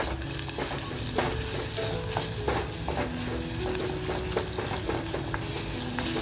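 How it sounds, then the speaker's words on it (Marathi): Sliced onion sautés over a slow flame for mutton masala, a constant close sizzle with repeated spoon stirring and scraping against the pan, continuing steadily without speech. "कांदा तर छान परतवत घ्यायचा आहे जास्त परतवायचा नाही आहे"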